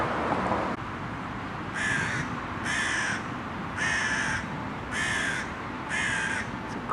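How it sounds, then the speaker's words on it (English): Several crows in Budapest give a series of five harsh, loud caws at a steady rhythm over a constant background hiss. "It's a crow. It's squawking his head off, and there's about 3 of them flying around."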